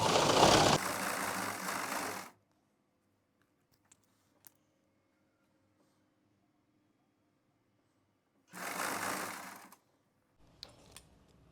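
A sewing machine stitches a palazzo pant while attaching the elastic, running in two bursts, a longer one at the start and a shorter one later, with near silence between and no talk.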